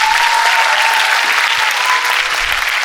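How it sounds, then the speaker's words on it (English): Audience applause for the panelists and guests at a hosted panel show, a loud, dense, steady wash of clapping that holds for the whole stretch without any talk over it. "I request the audiences to give a huge round of applause for the panelists and the guests"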